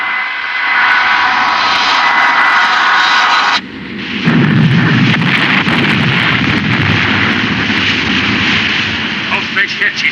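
A droning aircraft engine circles overhead in a World War II submarine film scene, loud and continuous, with a heavy rumbling shift partway through like distant explosions under it.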